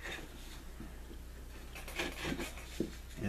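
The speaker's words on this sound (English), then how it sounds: "So I'll just kind of grind this down a little bit, or rather through the groove," A blade edge grinds and rasps along a groove around a dried gourd being made into a canteen, a close, soft scraping that builds into a few stronger strokes toward the end.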